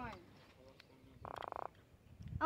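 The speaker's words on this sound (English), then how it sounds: "He's a croaker. He croaks like a frog." Croaker fish caught on a North Carolina coastal fishing trip gives a short buzzing croak like a frog, rapid pulsed grunts lasting under half a second, close by amid quiet outdoor noise and brief voices.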